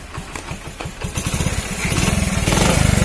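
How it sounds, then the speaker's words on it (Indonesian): An old Honda C70 motorcycle engine catches after a long idle and settles into a steady close putter, its beats quickening and growing louder as it idles. "Lepas tu motor dah hidup lah."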